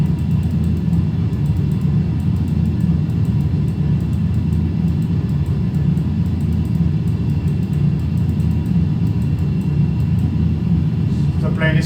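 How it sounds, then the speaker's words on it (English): Inside a small plane flying from Bradley to Boston Logan while banking left, a loud, steady engine and airflow roar drones without letup, and a voice speaks beneath it. "The plane is turning left."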